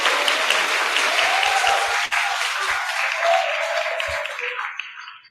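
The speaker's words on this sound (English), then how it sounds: "the audience to give applause to Dr. Indriati Amarini." An audience at an international law-faculty seminar claps for a few seconds, a steady, fairly loud round of applause that thins out and fades at the end.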